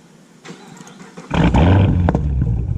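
A Chevrolet Camaro SS fitted with a Borla Attack axle-back exhaust and X-pipe in place of the resonators fires up from warm: quiet idle ambience, a sharp catch, then a loud, deep burbling roar that settles into a steady rumble.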